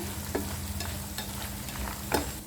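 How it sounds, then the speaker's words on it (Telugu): Coriander seeds and cumin seeds roast lightly in a pan, giving a steady close sizzle with a few brief scraping stirs against the metal. "అదేవిధంగా జీలకర్ర మొత్తం యాడ్ చేసుకుని ఒకసారి లైట్గా రోస్ట్ చేసుకోవాలి"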